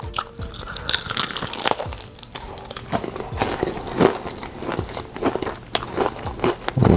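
Someone bites into spicy Jamaican-style fried chicken wings. Close, crunchy bites and wet chewing repeat steadily throughout, with crinkling in the background.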